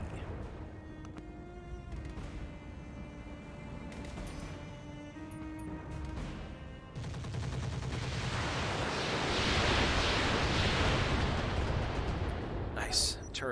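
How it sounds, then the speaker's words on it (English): Turrets unloading volleys of missiles in Battletech with the Roguetech mod, a rush of rapid launches and blasts swelling into a dense, loud roar of explosions, with a voice talking over the start. "Turrets unloading a bunch of missiles into that guy"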